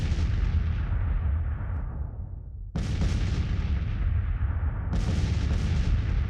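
Artillery fire in the American Civil War strategy game Grand Tactician: heavy, rumbling cannon booms that roll on and fade, with fresh blasts breaking in twice, loud and continuous with no voices.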